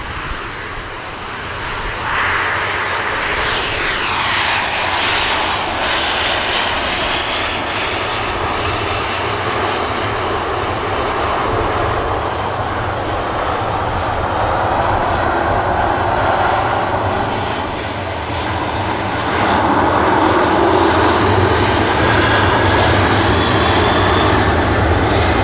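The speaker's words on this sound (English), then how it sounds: "KLM rotates on the return leg to Amsterdam Schiphol." A KLM jet airliner rotates on takeoff for Amsterdam Schiphol, its engines spooling into a loud, sustained roar that dips briefly and then surges even louder near the end.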